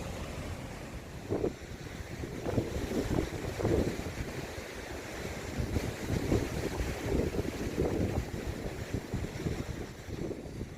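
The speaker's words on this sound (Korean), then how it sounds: "바람 소리 때문에 제 목소리가 잘 들어갈지 모르겠지만" Gusty wind buffets the microphone continuously on a seaside fishing spot, a low rumbling roar with bursts throughout.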